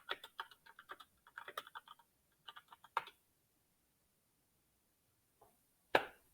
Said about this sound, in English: type hello on keyboard